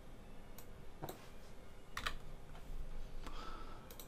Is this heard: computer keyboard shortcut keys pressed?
yes